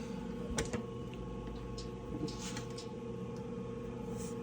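A restored Lawo MC2 82 mixing console, just switched on and mounted in a steel server cabinet, gives off a steady, fairly loud hum and fan-like whir with faint clicks and a brief thump early on.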